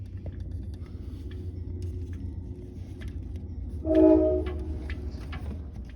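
A train passing near a rural inn in the Allegheny mountains, a low continuous rumble of rolling cars with a brief louder tonal burst, likely a horn, partway through, no voices.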